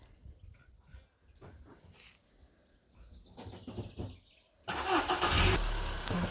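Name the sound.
car driving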